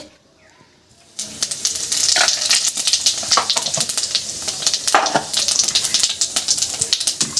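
Cumin seeds hit hot oil for a Bengali rohu fish curry, bursting into a loud, steady crackling sizzle after a quiet first second, with sharp spits and pops running throughout.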